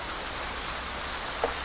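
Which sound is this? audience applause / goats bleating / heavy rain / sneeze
heavy rain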